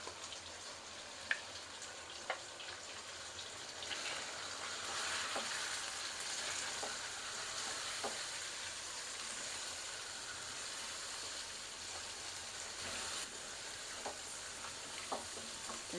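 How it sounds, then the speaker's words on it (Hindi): Chicken frying with spices such as coriander powder, salt and turmeric in a pot: a soft, steady sizzle with occasional stirring clicks of a spoon, faint and close with no talking. "मसालों को थोड़ा सा फ्राई करेंगे चिकन के साथ।"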